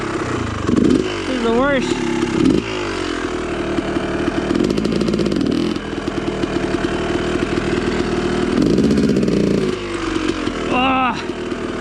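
A dirt motorcycle engine revs and bogs as the bike slides on a slippery, muddy trail, a loud close rumble rising and falling in pitch over a dozen seconds, with someone talking over it.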